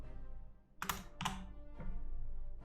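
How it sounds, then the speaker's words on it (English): A few quick keystrokes on a computer keyboard, short clicky bursts separated by pauses, close and fairly quiet over a low steady hum. "So I'm going to type this, 0,"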